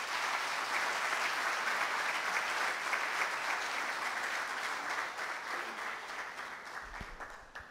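Steady, even applause from the audience at a renewable energy conference in East Africa, a continuous wash of many hands clapping heard from some distance, easing slightly toward the end.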